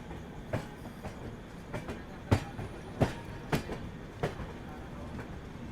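Tirupati Jammu Tawi Humsafar Express running on rails as it joins the main line, a low rumbling roll with repeated sharp clickety-clack wheel knocks at irregular intervals, heard from inside the train.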